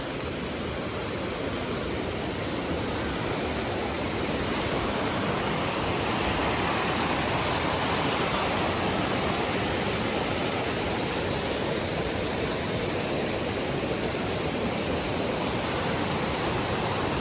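A mountain stream in the Great Smoky Mountains rushes beneath a bridge, a loud, continuous broadband roar of flowing water that stays steady throughout with no voices.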